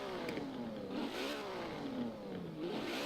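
A Ferrari's engine revs in the racing game Forza Horizon 4, its pitch sweeping up and down through several climbs and drops over a steady, loud drone with no talking.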